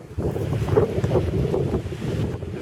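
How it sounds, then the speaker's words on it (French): Wind buffets the microphone with a low, gusty rumble that rises and falls continuously behind a school campus near volleyball courts, with no voices. "désolé pour le vent d'avance"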